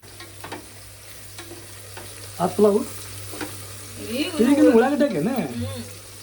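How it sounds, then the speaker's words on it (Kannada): Onions sizzle and fry in a pan on a home kitchen stove, with scraping and stirring bursts as they are moved around, plus a low steady hum underneath. "ಉಳ್ಳಾಗಡ್ಡಿನೂ ಮಸ್ತ್ ಫ್ರೈ ಆಗಬೇಕು."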